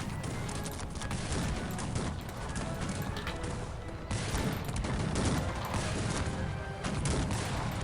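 Musket volleys and battle noise from the video game Cossacks 3, a dense continuous roar of gunfire crackling and rumbling throughout, loud and steady with no pauses.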